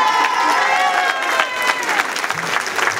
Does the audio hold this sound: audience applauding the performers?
yes